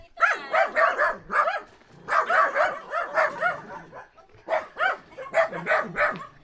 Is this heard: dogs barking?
yes